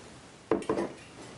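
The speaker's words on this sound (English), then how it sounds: "You grab your lid, throw it on there." A lid placed onto a glass mason jar of homemade almond milk, producing two quick clinking knocks of metal on glass in close succession, close and crisp in a quiet room.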